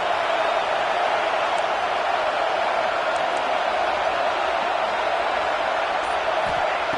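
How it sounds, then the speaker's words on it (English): Steady stadium crowd roar at a football game, a dense, continuous wash of many voices with no distinct cheers or breaks, filling the whole stretch evenly. "Listen to the crowd energy here in the early going."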